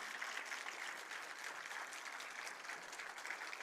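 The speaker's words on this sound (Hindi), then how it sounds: "जोरदार तालियों के प्रणाम से आप उनका स्वागत करें, अभिनंदन करें।" A crowd at a building inauguration in Lucknow welcomes the chief minister with steady, even applause, a dense wash of many hands clapping from a moderate distance throughout.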